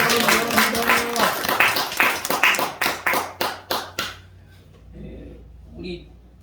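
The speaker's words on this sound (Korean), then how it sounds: "우리 박수로다가 한번 감사해요." A church congregation gives a short round of applause after a saxophone hymn performance, clapping in scattered bursts under a speaking voice that then fades to near silence.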